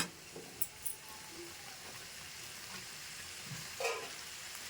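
Spiced meat in a pan sizzles and fries quietly and steadily, with a few faint clinks and splashes as water is added, and no talk over it.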